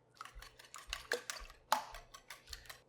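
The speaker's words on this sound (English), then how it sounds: "And let's give that a quick whisk." Quick whisking of an egg mixture seasoned with red pepper flakes, pink salt and black pepper in a bowl for a low-carb pizza frittata, heard as a string of light clinking taps against the bowl over a couple of seconds, with no talking.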